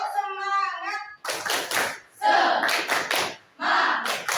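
A class of schoolchildren claps a quick patterned rhythm in bursts, chanting along after a teacher's single voice leads.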